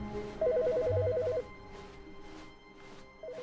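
An electronic telephone in the video game The Stanley Parable rings with a warbling trill, one long burst and then the start of a second, clear over a quiet room tone.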